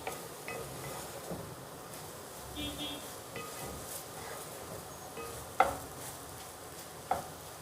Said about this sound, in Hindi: अब मैं इसको ऑयल में भून रही हूँ ताकि जो इसकी करवाहट है और जो कच्चापन है वो बिल्कुल ख़त्म हो जाए